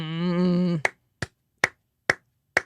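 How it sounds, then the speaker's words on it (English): A slow clap for John Durham: a brief voice opens, then four sharp isolated hand claps follow at an even, deliberate pace of roughly two-fifths of a second apart, dry and close. "Slow clap for John Durham there"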